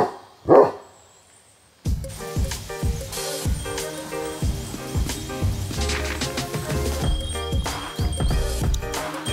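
A dog stands guard outdoors on a cool, overcast day, its barks coming in a brief loud burst near the start, then a steady run of repeated barks and yips close by, with no talk over them.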